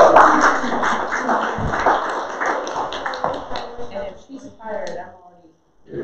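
A church congregation at a First Sunday in Lent service claps in a round of applause, a dense patter of hands that fills most of the clip before thinning out near the end.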